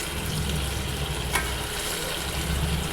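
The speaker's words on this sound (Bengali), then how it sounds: "এবার মশলাটা একটু কষিয়ে নেব।" Masala spice paste sautéing in a pan for rui fish curry, a steady loud sizzle with a brief scrape of stirring midway, no voices.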